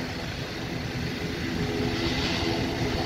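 ATR 72-600 twin turboprop airliner taxiing, its two propeller engines giving a steady broadband drone with a low rumble, constant and fairly close, no voices.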